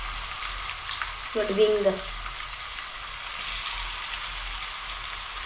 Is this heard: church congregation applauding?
no